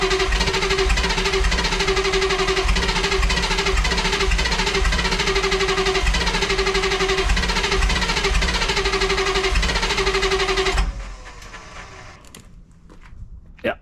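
A cold Chevy K30 diesel engine cranks repeatedly with a loud rhythmic starter churn that never catches, then cuts off into near silence with a few faint clicks.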